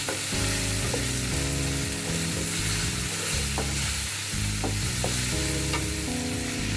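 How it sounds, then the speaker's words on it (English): Chicken stir fry with soy sauce sizzles loudly in a pan while being stirred, a dense, constant hiss with occasional utensil clicks. Steady tones run underneath, and there is no talking. "Then I'll stir."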